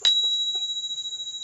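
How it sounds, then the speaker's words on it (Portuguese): A single small meditation bell is struck once at the start of a meditation, leaving a clear, pure tone that rings on and slowly wavers as it fades in a quiet room. "no início da meditação, eu vou tocar o sininho"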